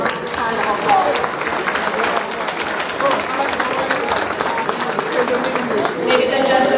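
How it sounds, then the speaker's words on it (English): Warm applause for honorees at a Jamaica 60 Diamond Jubilee gala, a dense, sustained clapping from a large crowd with some murmuring voices mixed in. "Please join me in giving them a warm hand of applause."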